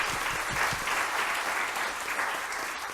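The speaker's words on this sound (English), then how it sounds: "So we'll start with the clapping therapy." A panel discussion audience claps together, a steady, moderately loud wash of applause that holds evenly for a few seconds.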